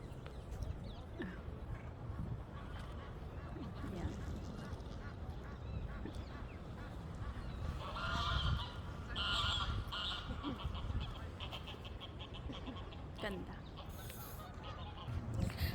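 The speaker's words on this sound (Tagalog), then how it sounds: "Narinig ninyo yung mga ipon." Geese honk in a London park, scattered calls over steady outdoor background noise, mostly in the middle and near the end, while people talk nearby.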